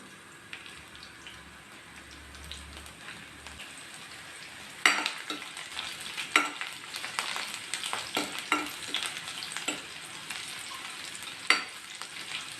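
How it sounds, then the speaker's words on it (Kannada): Crushed garlic fries in a pan with onion and green chillies, a soft background sizzle punctuated by sharper scraping and stirring knocks from about the midpoint onward. "ಈಗ ಬೆಳ್ಳುಳ್ಳಿ ಹಾಕ್ತಾಯಿದ್ದೀನಿ ಜಜ್ಕೊಂಡಿರೋ ಬೆಳ್ಳುಳ್ಳಿ"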